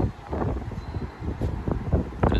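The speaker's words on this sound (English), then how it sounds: "So windy out here today." Strong wind buffets the microphone outdoors near Brixton's Venn Street Market in London, a rough, gusting roar with uneven bursts and rumbles and no clear talking.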